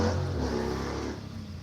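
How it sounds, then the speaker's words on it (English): A motorcycle pulls away down a residential street. Its engine note rises as it accelerates, then fades as it moves off, heard faintly from indoors over the hum of an air conditioner. "That was a motorcycle just taking off down my street."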